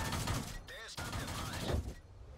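A tier 5 scout tank's gun fires in the video game World of Tanks, a sharp close shot amid steady engine and battle noise, with someone talking over it.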